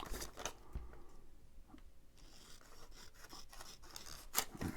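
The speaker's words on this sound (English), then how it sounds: "Cut these out." Scissors snip through paper to cut out faux photo slides, a few soft, scattered crisp cuts with light paper rustle, close and quiet, no talking.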